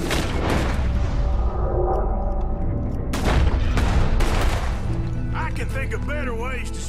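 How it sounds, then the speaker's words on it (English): Gunfire from the Red Dead Redemption 2 video game, dense bursts of loud shots and booms rolling over one another throughout, with a brief lull midway, under game music and character voices. "You can hardly see what I'm shooting at."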